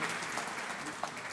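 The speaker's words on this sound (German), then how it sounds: "Klatschen Sie ruhig weiter" Audience applause following a traditional Tibetan music performance, a steady dense wash of clapping at moderate level, continuing without a break and without speech.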